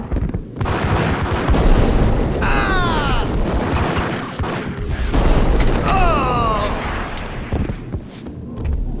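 Gunfire from the Max Payne video game, with dense booming shots and heavy rumbling blasts, loud and continuous, mixed with shouted in-game voices.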